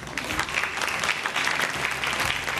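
Studio audience at a Ramadan iftar television show applauding a children's contest winner, dense continuous clapping throughout, fairly loud and close.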